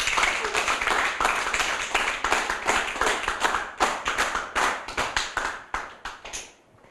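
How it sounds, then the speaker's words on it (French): A small audience claps steadily for several seconds, a dense patter of hands that fades out at the end, with no talking. "On applaudit donc Océane."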